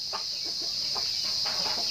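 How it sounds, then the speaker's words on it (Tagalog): Rooster breeders in a free-range flock, heard as a few soft, close clucks over a steady high background hum. "ito yung mga breeders natin na rooster na pinaprepare natin"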